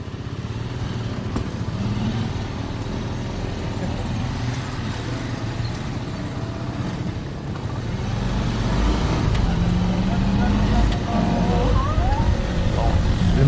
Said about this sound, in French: Le mototaxi nous dépose péniblement à l'entrée du parc naturel.